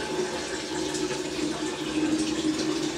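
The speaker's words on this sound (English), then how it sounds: "now we're absorbing the water" A Miele W562 washing machine on a 40°C Woollens cycle draws in water with a faint, steady hiss and gentle rushing flow, alone and continuous.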